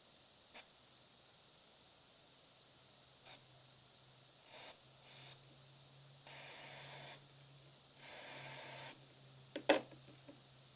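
Carburetor cleaner sprayed onto a string trimmer carburetor in short hissing bursts, starting with brief squirts and building to two longer sprays, quiet and close, with no talking.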